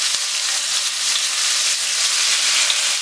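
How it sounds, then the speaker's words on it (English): Fish for Jamaican brown stew fish frying in a hot pan, a loud, dense, steady sizzle with crackling spatter throughout and no voices. "fry the fish then for roughly one good 3 to 4 minutes on both sides"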